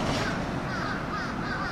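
Several crows caw loudly and close together in a continuous chorus of harsh overlapping calls, filling the short stretch without pause.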